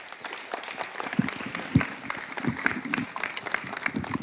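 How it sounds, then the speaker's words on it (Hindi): Audience applause at a theatre workshop's culmination day, moderately loud but uneven, with scattered claps and crowd noise mixed with some talk over roughly four seconds. "जोरदार तालियां।"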